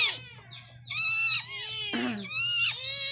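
Several hungry cats meow loudly in turn near a cooking pot, drawn-out wailing cries overlapping over a faint low hum.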